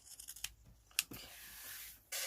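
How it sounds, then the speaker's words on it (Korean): Gardening scissors cut through ribbon for a hair clip, a few quiet close snips and rustling with one sharp clip, faint and alone. "원예용 가위로 이렇게 잘라주면"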